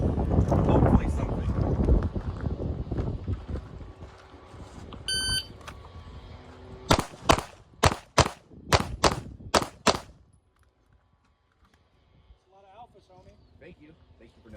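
Gunshots fired at four targets set from near to far. A voice talks over some rustling, then a quick series of about seven sharp, loud cracks comes in steady rhythm and is followed by quiet.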